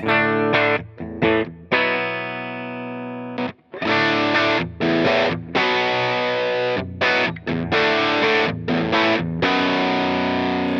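Loud, crunchy overdriven electric guitar through an amp, Marshall-style, playing chords and riffs with short stops between phrases.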